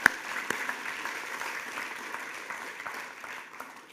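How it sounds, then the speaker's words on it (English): Audience applause fills the room at an Australia Day awards ceremony, a steady wash of many hands clapping that holds throughout and fades slightly toward the end. "Big round of applause, people, for nominating."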